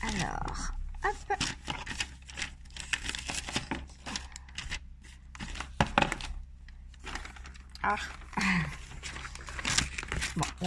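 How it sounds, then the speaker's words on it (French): Wrapping paper is torn off a book subscription box in a series of close, sharp ripping and crinkling bursts, with a brief vocal exclamation from a person. "Bon, j'ai enlevé le papier. Désolée pour le bruit."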